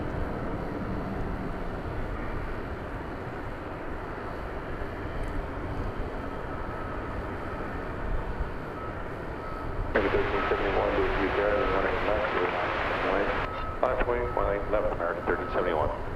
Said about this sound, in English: And going in the other direction, American Flight 577 to Denver. 737-800.